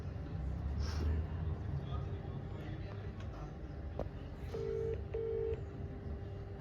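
A phone being dialed, with short electronic tones beeping in a quick sequence near the end over a quiet indoor background, with faint vocal sounds early on.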